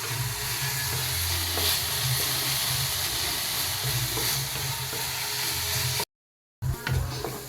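Pieces of dried fish frying in a pan, stirred continuously with a steady close sizzle and scraping, cut by a brief silence near the end before the sizzling resumes.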